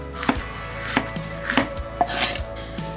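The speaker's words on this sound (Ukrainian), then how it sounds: "Перець. Ріжемо." A knife chops peppers on a cutting board while borscht dressing is prepared with beets, carrots and onions; four to five sharp, close knocks land at a steady rhythm over faint kitchen background.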